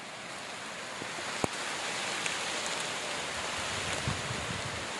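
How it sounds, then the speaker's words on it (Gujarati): Rain falls steadily on a dragon fruit farm, a soft even wash of drops with a single sharp tap early on and no voices. "વરસાદ પણ ચાલુ થઈ ગયો છે વિડીયો બનાવતા"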